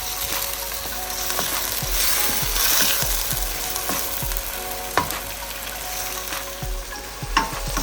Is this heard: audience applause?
no